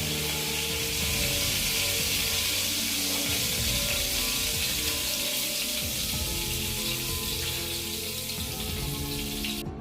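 Mustard oil heats in a pan with a dense, steady sizzle and crackle that runs unbroken and close, with no voices.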